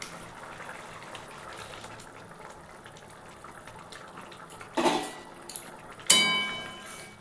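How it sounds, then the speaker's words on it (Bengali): Egg curry gravy simmers with a soft, low bubbling hiss, then a splash and a sharper clinking splash come as eggs are dropped into the pot. "ঝোলটা আমার ভালোভাবেই ফুটে গেছে। এখন আমি ডিমগুলো দিয়ে দেব।"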